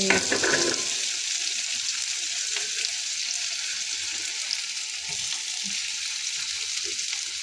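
Cumin seeds and chopped vegetables sizzle in hot oil for rice, a steady close frying hiss with a brief louder crackle as the ingredients go in at the start, then continuous sizzling alone.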